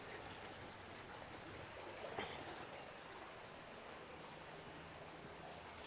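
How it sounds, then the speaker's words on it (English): Water streams steadily from a water feature at a luxury waterfall equestrian estate, a soft continuous broadband wash with a brief louder splash near the middle, fairly quiet and without any talking. "just the sound of water, this water feature, it makes me feel relaxed"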